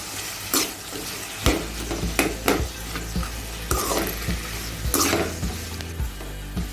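Cucumber and tomato cook in a pan while a spoon stirs them, with steady close sizzling and several sharp scraping strokes against the metal. Short knocks punctuate the frying. No one speaks.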